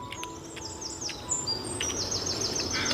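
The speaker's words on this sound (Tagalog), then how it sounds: "May ibon na malaki." Outdoors, a bird sings a series of high, thin whistled chirps and trills, some sliding in pitch, over a soft steady background rush.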